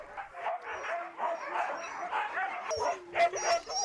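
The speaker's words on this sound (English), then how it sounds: "He picks 6 dogs at a time." Sled dogs in the Russian Far East barking and yelping excitedly, a dense overlapping chorus of yips, whines and barks from several animals at once, fairly close and continuous.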